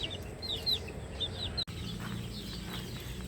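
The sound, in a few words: gamefowl chickens clucking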